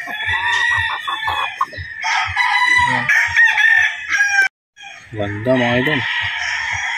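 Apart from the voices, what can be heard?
rooster crowing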